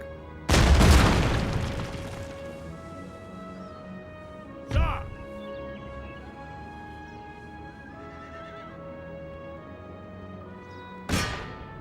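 Cannon fire in the Empire: Total War video game: one loud, close boom, then two smaller booms spaced several seconds apart, over a steady background with horse whinnies.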